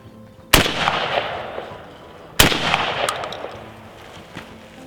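Two loud outdoor shotgun blasts from reloaded Aguila shells, about two seconds apart, each with a sharp crack and a long rolling echo that fades away, and no voices.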